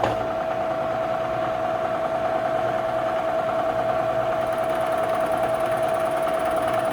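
Bridgeport milling machine taking a very light cut, spindle turning at 1,000 RPM with the table feeding about 9 inches a minute; a steady, even mechanical hum with a constant tonal whine holds throughout, no speech.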